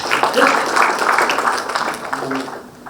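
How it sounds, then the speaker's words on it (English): Reunion audience of a 1983 school batch applauding in a hotel hall, a dense steady wash of clapping that fades toward the end, with some voices mixed in. "Another round of applause for that"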